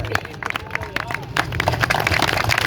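Applause and clapping from a crowd at an oath-taking ceremony in New Sabzi Mandi, Dera Ghazi Khan, welcoming newly elected president Malik Hussain Bakhsh, steady mixed with hubbub and a voice speaking over it.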